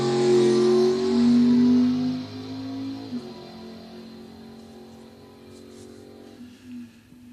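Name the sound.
1973 Chevy Corvette drag racing car, naturally aspirated, E85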